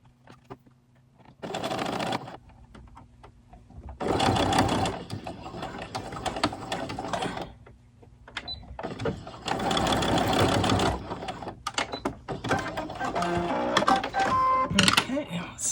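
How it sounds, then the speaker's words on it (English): A home sewing machine stitches jersey knit doll clothes for an 18-inch doll in three loud mechanical runs, each lasting a couple of seconds, separated by pauses with softer handling noises and a little quiet talk. "So it sewed that on there, and then there's the back side"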